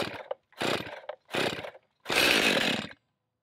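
A Stihl MS271 chainsaw on choke is pull-started in four quick bursts, each a short sputtering rasp of the engine turning over, the last one longer and louder before it dies away to silence.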